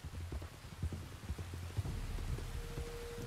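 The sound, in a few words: rain in the video game Red Dead Redemption 2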